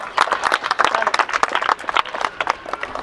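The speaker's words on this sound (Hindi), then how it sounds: "ताली रुकना नहीं चाहिए, बोला था आप लोगों को" An audience claps continuously at an Ayurveda and AYUSH medicine programme during a medal ceremony, a dense, steady patter of many hands with voices mixed in.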